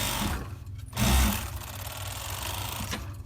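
A serger stitches a bagged back seam on a mesh garment, a short burst of fast, buzzing machine stitching heard up close with a brief louder surge partway through.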